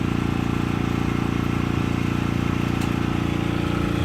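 A generator engine runs steadily and loudly nearby outdoors at an off-grid solar house build, a constant droning hum with an even mechanical pulse throughout.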